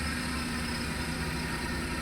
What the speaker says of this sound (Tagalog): so ngayon umistart na yung ating makina